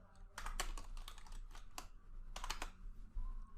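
Computer keyboard typing: a quick run of sharp, close key clicks in uneven bursts, pausing briefly before another flurry, with no voices.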